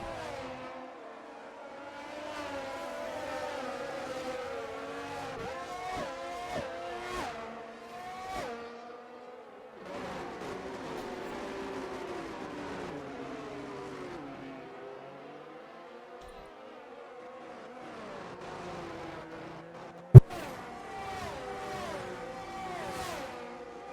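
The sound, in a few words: Formula 1 race cars in a racing video game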